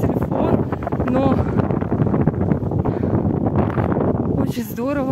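Heavy wind buffets the microphone on Mount Akhun near Sochi amid rain and fog, making a loud, constant low roar while a person talks over it throughout.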